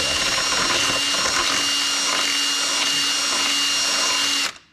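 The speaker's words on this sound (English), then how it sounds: "I guess try to drill it as straight as you can" A power drill whines steadily at high speed for several seconds, drilling a hole while fitting off-road long-arm suspension, loud and close, then winds down and stops.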